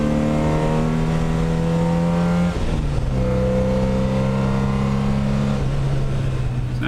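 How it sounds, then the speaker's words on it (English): Modified MGB GT with an 1860cc overbored engine, ported cylinder head and uprated camshaft, revving steadily with a deep, loud, close exhaust note that dips briefly midway, then holds. "The engine's been worked over with an improved cylinder head, a lot of porting, decent camshaft, slight overbore, making it 1860cc."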